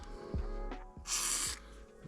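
One short burst of aerosol cleaner spray hisses for about half a second, close and fairly loud, onto the inside of a field-stripped Springfield 1911 DS Prodigy pistol's parts during cleaning, amid faint handling clicks and knocks.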